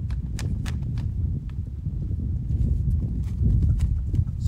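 A horse moves around a round pen, its hooves thudding and clopping on the ground in an uneven walking rhythm, close by, with low rustling and a faint voice in the background.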